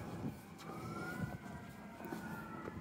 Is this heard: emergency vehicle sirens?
yes